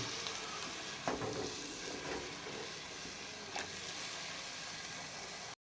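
Chicken and onion simmer with stock in a pan, giving a soft continuous sizzle and bubbling hiss at moderate distance with a couple of faint stirring clinks.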